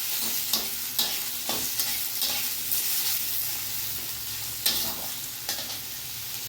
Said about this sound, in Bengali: পেঁয়াজ আর টমেটোটা সুন্দর করে আমি কুচিয়ে ভেজে নেবো একটু